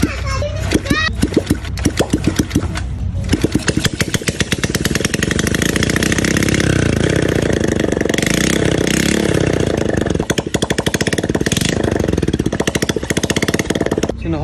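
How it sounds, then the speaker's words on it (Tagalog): A motorcycle engine runs loud and close, sputtering at first, then settling into a steady, rapid putter of idling with occasional revs. "Nakaandar na gid ang motor."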